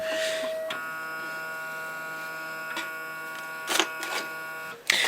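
Da Vinci 1.0a 3D printer finishing a print, a steady tonal motor whine and hum held throughout with a few short mechanical clicks and bursts, close and fairly quiet.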